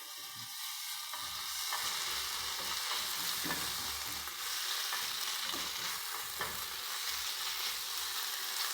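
Capsicum frying in a pan with ginger garlic paste, giving a steady close sizzle with intermittent stirring scrapes and clinks, no voices.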